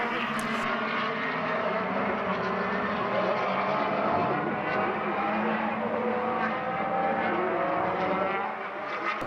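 Formula BOSS race cars at Mondello Park circuit in Ireland scream past through turn 2, a loud, continuous engine roar with overlapping high revving tones from several cars for the whole stretch.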